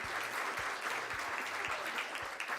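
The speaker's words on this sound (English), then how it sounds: "Another round of applause while they exit." An audience claps together at a census report launch event, a dense, steady round of applause lasting the whole moment, fairly close and full, with a few sharper individual claps standing out.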